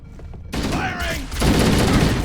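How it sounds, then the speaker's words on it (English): A sustained burst of loud gunfire from the Halo: The Master Chief Collection video game crashes in after a brief quieter moment and rises into dense rapid shots, with a voice faintly present. "Firing!"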